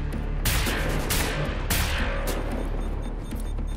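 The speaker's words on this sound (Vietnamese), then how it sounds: "Lấy súng này ra bắn trước mấy viên." Gunfire from the shooter game Wolfenstein: The New Order: four loud, sharp bursts over a steady rumbling background.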